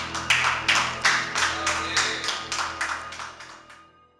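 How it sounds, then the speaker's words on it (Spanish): Theatre audience applauding together, a rhythmic wave of claps pulsing roughly every third of a second before fading out, fairly close and without talk. "¡Fuerte el aplauso!"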